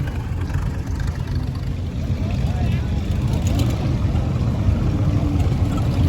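A troop carrier vehicle drives past at a tractor show, its engine a steady low rumble that holds even and fairly loud from start to finish, with outdoor background noise.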